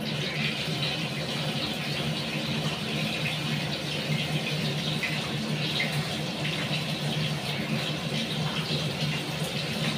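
Cut potato pieces washed under steady running tap water, a continuous broadband rush filling the whole stretch at even loudness with no talking.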